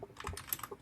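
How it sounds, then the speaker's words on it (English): A short, quiet burst of keystrokes on a computer keyboard in a podcast room, a quick patter of several taps lasting under a second. "while he's typing over there"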